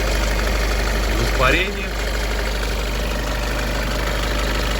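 A cold Great Wall Hover H5 4D20 diesel engine idles with a loud, steady rumble close by. Someone talks briefly over the noise.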